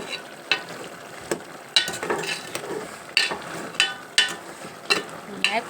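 Goat mutton mulankada curry sizzles steadily in a pan while a utensil stirs it, with sharp scraping clinks recurring every second or so over a constant frying hiss.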